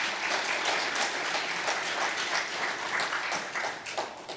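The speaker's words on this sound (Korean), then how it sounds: "박수 보내주시기 바랍니다" A church congregation at a Wednesday worship service applauds steadily, a dense wash of many hands clapping at moderate loudness that holds for a few seconds, then grows a little uneven toward the end.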